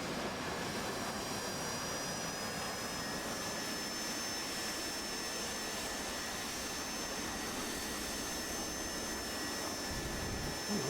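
An AV-8B Harrier's jet engine spools up for a short takeoff in the DCS World flight game, a loud sustained roaring whine with steady high tones held evenly throughout, no voices.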